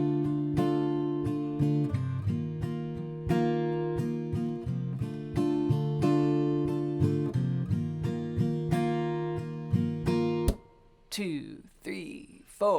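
Acoustic guitar strumming the chords of the bridge of a song, steady rhythmic strums ringing close and clear, followed at the end by a person talking briefly.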